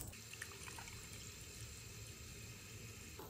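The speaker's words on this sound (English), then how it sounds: "I'm gonna fill this sink here with water" Tap water runs steadily into a sink, a faint, continuous hiss and splash heard close by with no talk, cutting off abruptly near the end.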